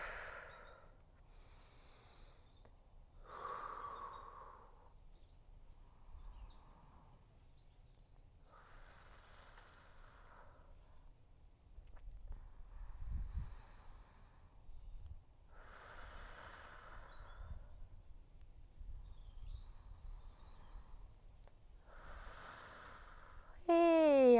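Audible breaths recur during a guided stretching routine, each a soft breathy exhale or snort-like puff, spaced several seconds apart in a quiet room with faint background hum.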